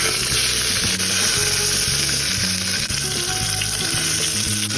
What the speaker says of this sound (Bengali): ভালো করে কিছুক্ষণ পেঁয়াজটাকে ভাজবো, যতক্ষণ না পেঁয়াজটা হালকা হালকা লালচে হয়ে যাবে।